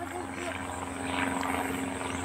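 A steady droning engine hum of an aircraft passing overhead, fairly distant and continuous, with faint voices in the background.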